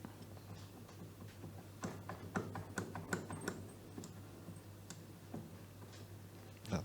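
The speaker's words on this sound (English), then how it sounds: "So now I will undo the screws and see if I have a bit of a wiggle room" Screws are undone on a precision Z axis during a CNC machine upgrade, giving small dry metallic ticks and clicks at an irregular pace, close and fairly quiet.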